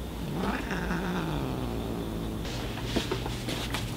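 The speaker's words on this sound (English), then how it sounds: "My loyal kitty cat companion." A pet cat vocalizes close by with a drawn-out, wavering moan-like meow, followed by soft rustles and small knocks in a quiet room.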